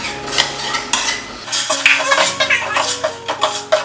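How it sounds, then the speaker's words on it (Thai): Pork is stir-fried in a pot for a Thai pumpkin curry, with loud, close, rhythmic scrapes and metal clinks of a utensil against the pot over a light sizzle. "เราก็คั่วไปเรื่อยๆ จนหมูสุก"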